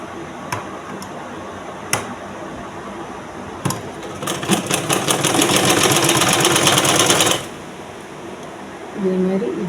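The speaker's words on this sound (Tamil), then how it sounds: "இனி அடுத்த சைடும் அதேமாதிரி நம்ம இன்னொரு பீஸில் நம்ம தைச்சி எடுத்துக்கிடலாம்." A sewing machine stitches a blouse piece: a few single clicks, then a rapid, even whirring run of about three seconds that stops abruptly, with a voice speaking nearby.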